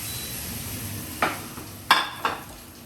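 A Spanish tortilla in its pan is turned out onto a covering plate, giving three short clattering knocks of pan against plate over a quiet kitchen hiss.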